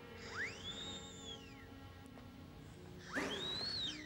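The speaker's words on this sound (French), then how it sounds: "C'est le rameau d'une plante, je l'ai sculpté pour en faire un sifflet." A whistle carved from a plant stem sounds two rising-and-falling shrill notes, separated by a short pause, fairly faint and close with no talking.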